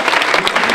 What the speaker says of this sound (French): on les applaudit chaleureusement s'il vous plaît